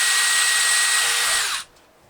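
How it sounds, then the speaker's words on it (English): A power drill bores pilot holes in the cap of a KC Cyclone amber dust light, whining steadily and loudly for about a second and a half before cutting off abruptly into quiet. "I'm just going to take off the other cap and drill the holes."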